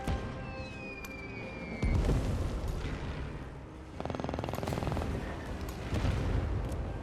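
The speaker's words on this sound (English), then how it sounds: "We have our aircraft carrier up here with a heavy bomber, so let's continue to bomb Tokyo." A heavy bomber strikes the city of Tokyo in the Civilization VII video game. Distant booms and crackling blasts come in bursts, joined by a rapid rattling volley, all fairly faint with no talking.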